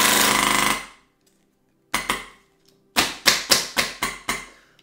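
Airsoft M4 rifle fitted with an MTW firing on full auto: a sustained loud mechanical burst, then after a pause a single shot and a rapid run of sharp clacking shots, close up and alone.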